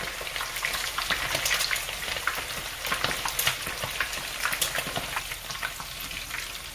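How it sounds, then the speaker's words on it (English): Oil sizzles and crackles continuously up close as bacon-wrapped stuffed biscuits fry, a dense, busy frying hiss with scattered pops and no talking. "Now remember to turn them as they're frying."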